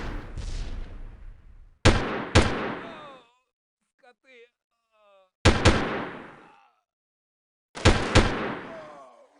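Gunfire in the Delta Force video game on a snowy Novaya Zemlya mission: loud, close single and double shots with ringing echoing tails, separated by quiet gaps holding faint small electronic chirps.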